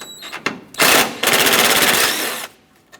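A power tool on a 10mm socket loosens a bracket bolt while an AC condenser is replaced on a 1995-2004 Toyota Tacoma: two loud, close, rapid rattling bursts, one short and one longer, with no voices.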